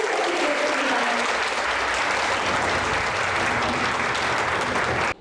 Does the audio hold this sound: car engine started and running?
no